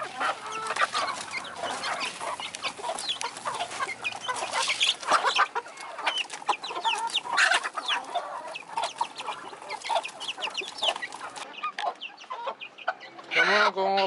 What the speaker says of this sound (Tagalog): ito yung manok ni engineer